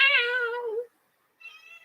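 A house cat gives two meows, a loud falling one and then a softer, shorter one after a brief silence, close by and clear with no talk.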